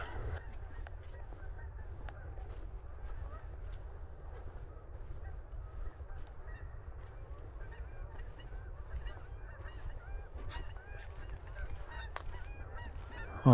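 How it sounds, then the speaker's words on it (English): Geese honking along a river at a photo walk near sunset, repeated scattered honks sounding fairly distant over a steady low outdoor rumble, with no one talking. "Hear the geese."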